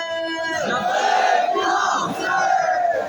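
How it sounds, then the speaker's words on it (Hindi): A large crowd in a Muharram procession chants "Labbaik Ya Hussain" in unison, loud and sustained, swelling in waves with overlapping voices. "मिलकर जरा आवाज़ें बुलंद हमारे हुसैन को याद कीजिए"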